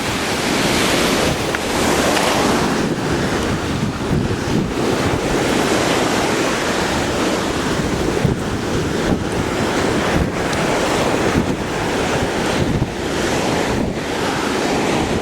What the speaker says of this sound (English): Like those are waves.